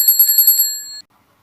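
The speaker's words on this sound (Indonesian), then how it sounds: "akan mampu menggerakkan lengan pemukul untuk memukul sehingga bel berbunyi" An electric bell with an electromagnet-driven striker arm rings in a rapid metallic burst of about seven quick strikes, then a brief sustained tone cutting off after one second into silence, loud and close with no talk.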